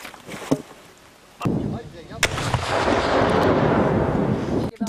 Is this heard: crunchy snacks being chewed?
no